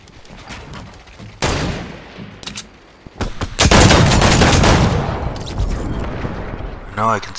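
Sniper rifle fire and other gunfire in the video game Fortnite, a few sharp shots followed by a dense loud burst of shooting and rumble, with a voice talking over it.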